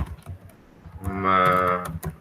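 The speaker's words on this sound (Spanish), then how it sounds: "introduzca por teclado el nombre" Keys on a computer keyboard being typed in a short burst as a name is entered, clicking close and fairly loud with a tonal hum behind it.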